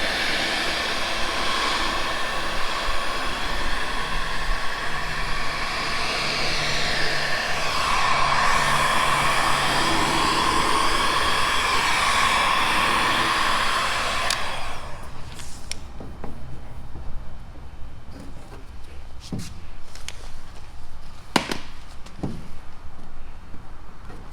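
A heat gun blows steadily while heating the edges of black tint film on a car tail light, a continuous broadband hiss for about fifteen seconds, then it cuts off, leaving quiet handling noises and a few sharp taps.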